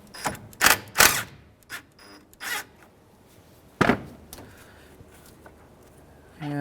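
A ratchet on a 10mm nut at the negative battery terminal of a 2005 Honda Element gives a few close, sharp clicks and metallic rasps, separated by quiet pauses.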